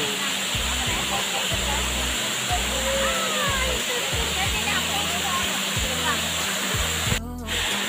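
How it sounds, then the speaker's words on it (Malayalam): Alakapuri waterfall in Kannur, Kerala roars in a constant, loud broadband rush close by, while people talk over it throughout. "അങ്ങനെ അളകാപുരി വെള്ളച്ചാട്ടത്തിന് അടുത്തേക്ക്"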